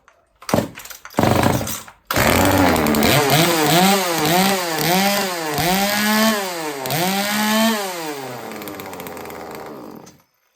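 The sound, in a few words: small engine running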